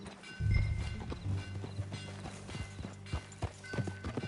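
A horse's hooves clip-clop at a steady walking pace in the Western video game Red Dead Redemption 2, close and distinct over a low ambient drone, with a snort or whinny near the start.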